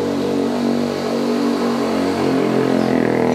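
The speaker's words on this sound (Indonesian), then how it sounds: "Lain eta motor." A motorcycle engine revs in a steady, loud, buzzing drone that rises slightly toward the end.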